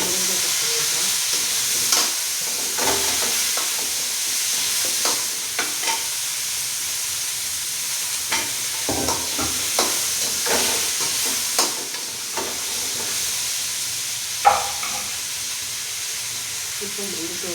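Cut drumstick (moringa) pieces stirred in a hot pan, a steady frying sizzle with intermittent scraping stirs and clinks of the spoon, close and fairly loud throughout.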